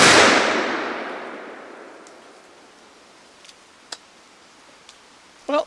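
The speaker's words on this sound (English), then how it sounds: "let's try a load of buckshot again out of the Queen Anne pistol. This time from 10 yards." A Pedersoli Queen Anne black powder pistol fires a load of buckshot outdoors, one sharp blast that fades into a long noisy decay, followed by a few faint clicks and rustles.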